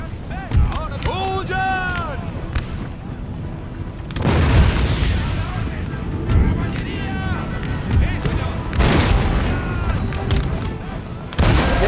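Cannon fire in the Empire: Total War battle game, repeated heavy booms at about four-second intervals among battle noise, with someone talking over it.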